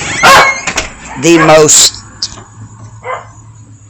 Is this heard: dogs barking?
yes